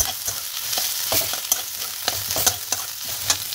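Onions frying in a little mustard oil in a kadai give a steady close sizzle, broken by sharp scrapes and taps of a stirring spoon, with no voices.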